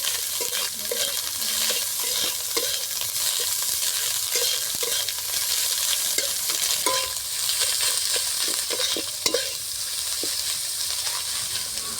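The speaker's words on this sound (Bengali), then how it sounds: "এবার দিয়ে দেব সিদ্ধ করা মাছের ডিম। এবার ভালো করে নেড়ে চেড়ে কষিয়ে নেব।" Boiled fish roe fries with spices in a pan, giving a constant close sizzle while a spatula scrapes and stirs in a steady, repeated rhythm.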